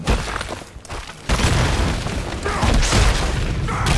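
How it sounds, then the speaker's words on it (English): A grenade blast from the Heroes of the Storm game with Sgt Hammer and King Leoric in play, a loud low boom landing after a short dip and then sustaining into dense rumbling battle noise. "Oh, jeez. I got grenaded."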